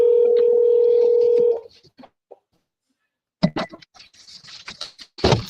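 Telephone tones sound while a caller is called back, a steady tone lasting over a second, then a near-silent gap followed by clicks and rustling close to the phone.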